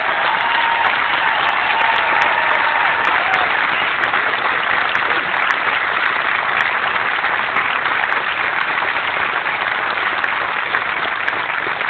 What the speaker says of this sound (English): if you got one more standing ovation in you, let's give it to these 4 people